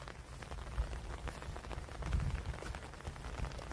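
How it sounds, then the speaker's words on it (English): Steady rain falls outdoors at a site where an underground downspout pipe is being buried, a soft continuous patter with scattered drops, fairly faint and with no voices. "we've been working in the rain"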